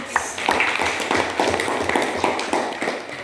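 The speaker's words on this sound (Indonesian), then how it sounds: "Tepuk tangan." Group of participants clapping hands together in a training session classroom, a fairly dense, steady patter of claps that carries on for a few seconds with no talk over it.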